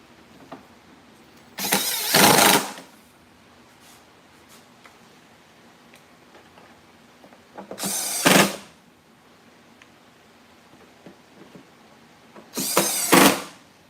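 Three short whirring bursts of a power screwdriver driving screws back into a Stihl chainsaw on a shop bench, each about a second long and spaced several seconds apart over quiet room tone.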